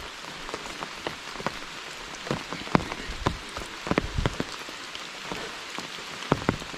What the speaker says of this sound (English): Maybe the rain will let up before we get there.